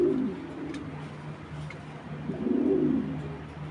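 Racing pigeons, a breeding pair from a club loft, give low throaty coos, two rolling bursts at the start and near the end over a faint steady hum, close and moderately loud.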